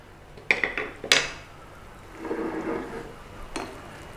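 A spoon scooping honey garlic lemon butter sauce over pan-seared salmon: two sharp clinks of metal against the pan, then a soft, brief wet sizzle and a final tap.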